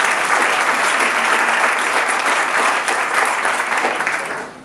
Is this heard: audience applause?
yes